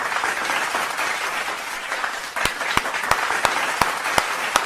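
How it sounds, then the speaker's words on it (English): Audience applause at a music review show, a steady wash of many hands clapping close by, with a few sharper individual claps standing out in the second half. "Round of applause to you."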